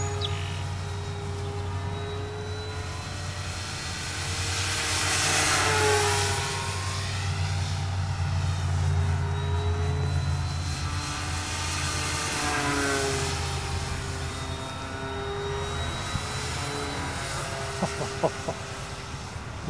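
A Flyzone Focke-Wulf Fw 190 electric RC model warbird, 1130 mm wingspan, drones steadily overhead on its maiden flight, its motor whine rising and falling with Doppler sweeps as it makes repeated passes, over outdoor wind rumble and without talk.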